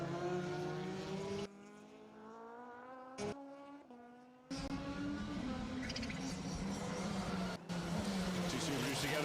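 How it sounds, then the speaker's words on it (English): Peugeot 306 Maxi rally car on a circuit rally stage, its engine note climbing loudly through gears with sharp cuts between shifts, close and dominant, then holding a hard rising drone to the end. "awesome 306 Maxi come through"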